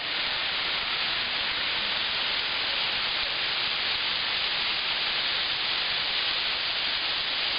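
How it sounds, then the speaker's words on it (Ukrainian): Yalynskyi waterfall pours steadily, a dense, unbroken rushing hiss of falling water that stays even and loud throughout. "Шумить воде. Ялинський водоспад."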